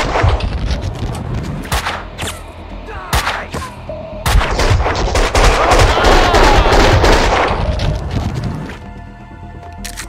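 Loud gunfight in Max Payne 2, with sharp individual gunshots followed by a long dense stretch of rapid fire and booming impacts, close and forceful, fading to scattered shots at the end.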